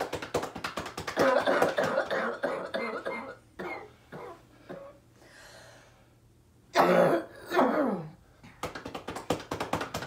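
A person recovering from COVID-19 lung trouble coughs and clears their throat in repeated harsh bursts, close and loud, with quiet pauses between bouts.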